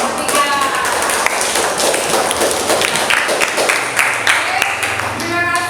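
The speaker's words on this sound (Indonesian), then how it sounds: "Tepuk tangan untuk kelompok 3." A classroom of students applauds a presenting group, the sharp claps dense and fairly loud for several seconds, with voices and other noise mixed in underneath.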